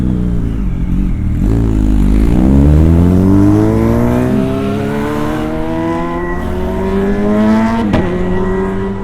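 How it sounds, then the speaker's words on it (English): A loud car revving hard and roaring past on a city street at night in Mesa, Arizona, engine pitch climbing through several gear sweeps, close and dominant, ending with a sharp clatter. "People really like to drive their loud vehicles right now."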